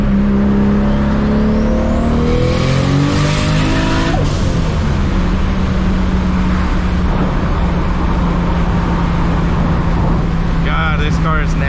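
A 1000HP MKIV Toyota Supra accelerates hard up through the gears, its engine climbing in pitch, a shift breaking the pull before it rises again, loud and close from inside the car.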